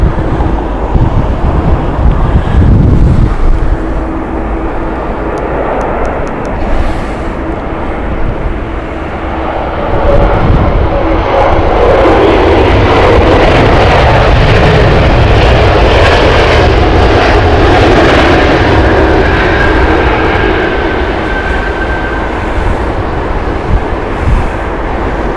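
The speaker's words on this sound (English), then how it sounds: "Aberdeen flight for the shuttle service inbound next." Shuttle flight from Aberdeen arriving at Heathrow Airport, a loud jet engine roar that swells and shifts in pitch as the aircraft passes, with gusts of wind buffeting the microphone.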